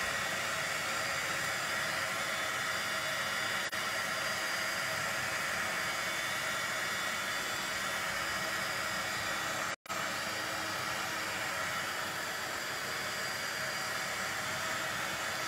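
A dryer blows steadily over alcohol ink on stencil art, a continuous loud airy whoosh with a faint hum that cuts out for a split second near the end, then resumes unchanged, with no voices.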